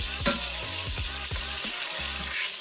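Oxtails sizzling in a Ninja Foodi as they are turned over, with a steady close frying hiss and several rhythmic low thumps and scrapes beneath it, no talking.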